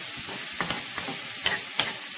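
Chopped onion and green onion frying in oil in a pan for Chinese fried rice with shrimp, a soft steady sizzle broken by several scraping stirs, close by with no talking.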